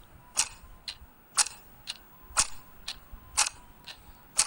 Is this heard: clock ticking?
yes